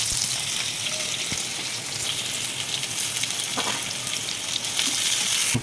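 Green chillies frying in about two and a half spoons of oil for veg soya keema, a steady close sizzle with faint crackles throughout and no talk.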